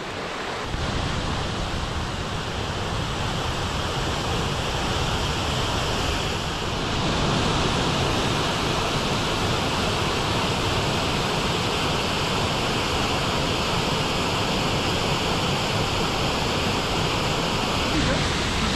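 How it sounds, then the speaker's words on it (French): A steady, powerful roar of falling water fills the whole clip, loud and continuous, from the Pont d'Espagne waterfall close by near Cauterets. "Aussi spectaculaire cette cascade du pont d'Espagne."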